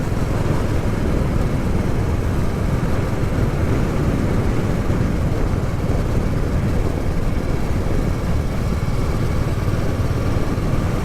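A Royal Enfield 350 Classic motorcycle rides along country lanes at an easy pace, its engine a steady, continuous drone mixed with wind rush, with no voices.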